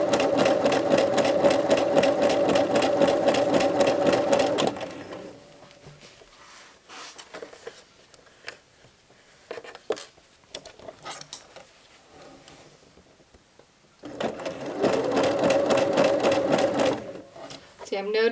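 A home sewing machine stitching a casual skirt seam runs in two loud, fast, steady bursts at the start and end, with a quieter stretch of handling and someone talking between them.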